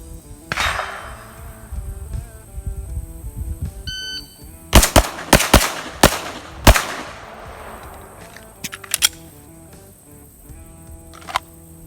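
A rapid string of sharp Glock pistol gunshots fired from low ready, about six loud cracks in quick succession, followed by a few more scattered shots, with background noise between.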